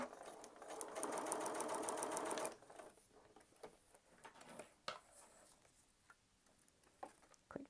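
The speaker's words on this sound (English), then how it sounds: "Let's get this one sewn." A sewing machine stitches a quilt block seam in a fast, steady whirring burst for about two seconds. Quiet ticks and fabric handling follow once it stops.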